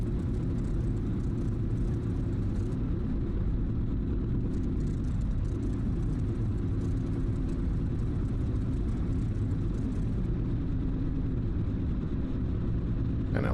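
F4U Corsair radial engine in the DCS flight simulator starting up: a steady low rumbling drone that holds at an even level throughout, with no talk over it.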